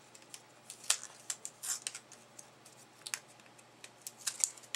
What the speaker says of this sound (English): So let's get our tape backing off